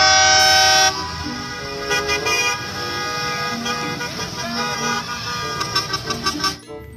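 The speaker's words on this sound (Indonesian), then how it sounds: "ada mobil bus sekolah." Toy school bus sounding a loud horn blast at the start, followed by a busier run of engine and beeping sound effects with a few short toots.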